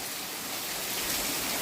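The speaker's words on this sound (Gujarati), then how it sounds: "એટલો ધુવાળો મુસળધાર ચાલુ જ છે ભાઈ વરસાદ અહીં તો સવારનો ચાલુ થઈ ગયો" Torrential rain pouring without pause near a dam, a thick broadband wash of falling water heard up close, constant and unbroken, no one speaking.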